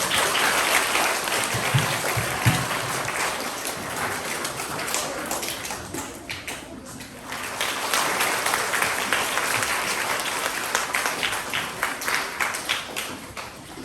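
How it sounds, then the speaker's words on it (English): Primary school assembly audience claps for students, a broad wash of applause that dips briefly in the middle, then swells again with sharper individual claps near the close. "Can we please give these students a round of applause?"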